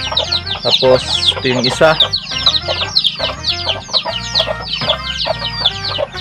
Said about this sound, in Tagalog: Yung kanyang mga sisiw na yan, paikot-ikot.